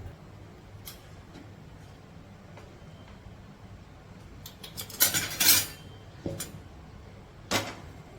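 A metal lid clatters onto a pot of mutton curry, several faint clinks followed by a louder rattling clatter, with quiet kitchen background and no talking.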